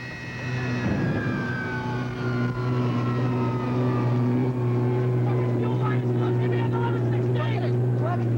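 A loud, steady roar from a turbine boat engine starting up, with a strong low hum and rising whine, continuous throughout, with faint voices mixed into the noise.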